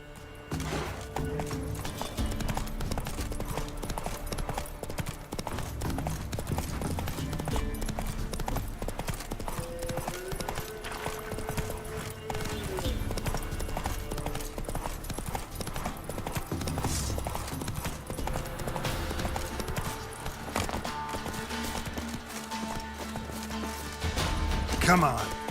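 Roach the horse gallops in Witcher 3, a dense rhythmic clip-clop of hooves running the whole time under game music, with a voice talking now and then.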